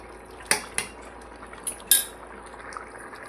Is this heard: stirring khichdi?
yes